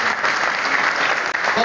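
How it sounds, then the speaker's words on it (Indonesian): Brief burst of dense, steady clapping from a group at a school staff training session in Kebumen, loud and close, lasting under two seconds. "Oke, tepuk tangan bagi kita semuanya."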